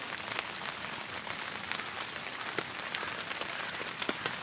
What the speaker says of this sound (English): It's been raining the whole night, everything is wet